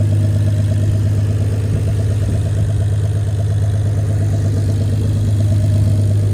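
A turbocharged BMW E46 330ci idles with no exhaust fitted, giving a loud, steady, rough low drone with a pulsing rumble that holds throughout, close up and with no voices.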